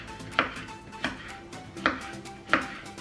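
Knife chopping courgette into small pieces on a board, four sharp, evenly spaced chops about two-thirds of a second apart, close and clear over a faint background hum.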